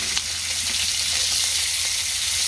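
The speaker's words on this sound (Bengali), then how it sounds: "এইবার দিয়ে দেবো ইলিশ মাছ ভাজি" Large hilsa fish fry in hot oil, a loud steady close-up sizzle with crackling spatters throughout and no talking.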